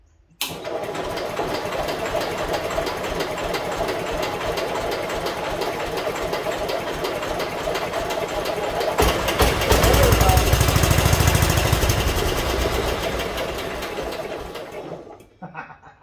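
An old engine with a dirty carburetor cranks and catches, then runs steadily with a rattling, sewing-machine-like clatter. It swells louder midway, eases back, and cuts off near the end.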